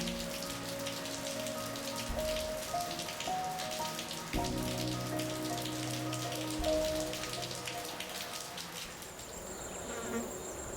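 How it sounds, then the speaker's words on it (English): Steady rain falls in a morning downpour over grassland, a dense close patter with faint buzzing insects and a few muffled thuds underneath, no voices. "Yet, even in the downpour, life persists."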